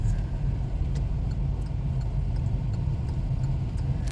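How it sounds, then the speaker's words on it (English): Double decker bus in Dubai, a steady low engine rumble close by, continuous throughout with faint ticking clicks on top. "And this double decker bus"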